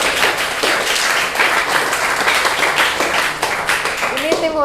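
A classroom of students claps for a student group, the dense, close clapping filling the whole stretch while voices call out over it and one rises sharply near the end.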